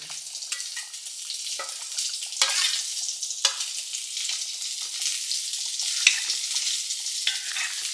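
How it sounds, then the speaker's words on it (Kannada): A spoon scrapes and stirs a North Karnataka style gravy curry in a frying pan, with a steady soft sizzle and scattered light clicks throughout, no voices. "ಇದೆಲ್ಲ ಕಲಸಿ ಬಿಡ್ಬೇಕು"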